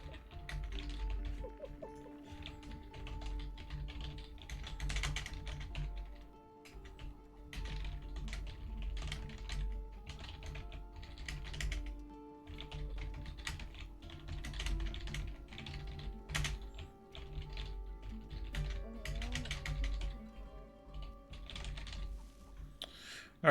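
Quiet, steady typing on a computer keyboard, with irregular bursts of soft key clicks continuing for over twenty seconds over a low background hum.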